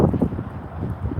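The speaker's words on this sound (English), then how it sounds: "Oh, it's windy as hell." Strong wind outdoors at night in Las Vegas, a steady, low, buffeting rumble of gusts pushing against the microphone, loud and close, with no talk over it.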